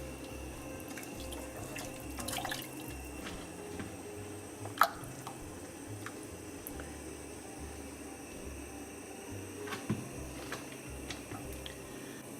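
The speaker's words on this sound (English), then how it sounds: "Now I'm going to add the stock. There's my litre of stock." A litre of stock splashes and trickles into a soup pot of spicy pepper and tomato soup, a quiet continuous liquid pour with small drips and splats, and a faint background hum.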